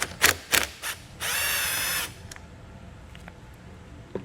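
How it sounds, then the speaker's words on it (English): A power tool with a 12mm socket spins off a nut during installation of a Demco Air Force One flat tow brake system on an RV with air brakes: a few short ratcheting bursts, then one steady whir of about a second, fairly close. "we're going to go ahead and remove the nut located there with a 12mm socket"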